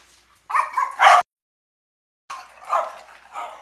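Dogs bark indoors in two short bursts of sharp, close barks separated by a brief silence, loud and alone without talk.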